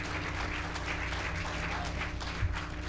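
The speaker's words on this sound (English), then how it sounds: "A round of applause to our panelists and respondents" Applause at a waterfront design conference panel, steady clapping from a seated audience spread evenly across the moment, moderately distant and fairly soft under a low hum in the room.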